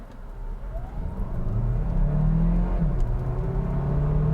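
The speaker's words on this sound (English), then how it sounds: "This time I'm not going to brake torque it," A 2022 Hyundai Tucson plug-in hybrid SUV floored from a standstill on a slight uphill, its engine drone rising steadily in pitch and loudness with early gear shifts, heard from inside the cabin without talk.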